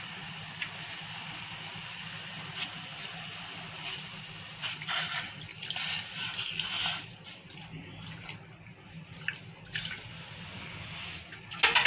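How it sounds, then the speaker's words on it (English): Water runs and splashes steadily into a cooking pot of beans for several seconds, with some clinks and shifting near the end. "Then, of course, a little bit of water."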